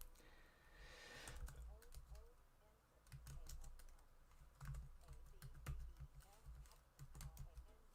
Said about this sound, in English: I would rather search with my keyboard